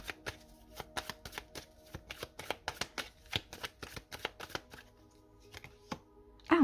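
Tarot cards shuffled by hand in quick, crisp riffling bursts, close and fairly quiet, then a few slower taps as cards are laid down at the end, no talk.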